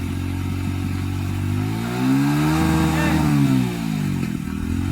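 A motorcycle engine struggling to start properly during a low-budget water-wash service, running with a rough, droning tone whose pitch swells up and then sags back, close and steady.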